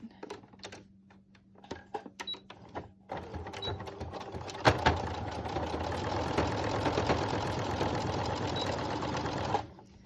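A sewing machine runs continuously, stitching a fabric face mask. After a few brief starts and stops it settles into a steady close mechanical whir that lasts for several seconds before it cuts off.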